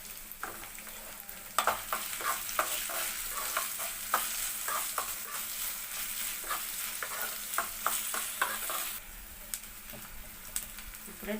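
Dried red chili stirred and frying in a pan with ginger-garlic paste, steady sizzling under repeated scraping strokes of a spoon, close and moderately loud, with no talking.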